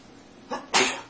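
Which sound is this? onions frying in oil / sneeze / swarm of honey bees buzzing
sneeze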